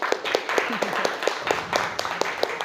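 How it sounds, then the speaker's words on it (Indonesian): Classroom applause, a run of sharp hand claps in loose rhythm from several students, moderately loud with murmuring voices underneath. "Tepuk tangan."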